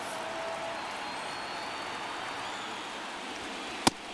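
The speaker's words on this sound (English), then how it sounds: "Crowd locked in right now." A stadium crowd murmurs in MLB The Show 23 baseball, a steady, moderately faint wash of crowd noise that continues evenly, ending with a single sharp click or crack just before the close.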